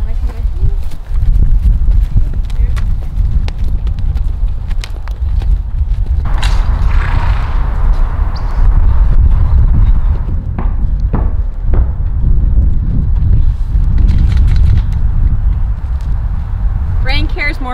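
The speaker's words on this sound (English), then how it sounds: "there's a brand new horse with her" A horse at a lesson stable walks with steady, rhythmic hoof clip-clops close by, while people talk over the footsteps almost throughout.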